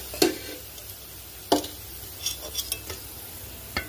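Vegetable pakoras frying in oil, a low, steady sizzle broken by a few sharp clinks and scrapes of a utensil against the pan as the pieces are lifted out.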